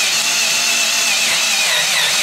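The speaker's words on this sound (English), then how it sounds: "So he's going to now drill this out." A 7mm bit drills out a worn Classic Mini door hinge, a loud continuous high-pitched power-drill whine biting into metal, close and unbroken.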